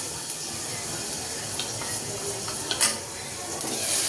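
Asafoetida and spice masala sizzle in a pan over a low flame, giving a steady soft hiss with a few light stirring clicks and scrapes.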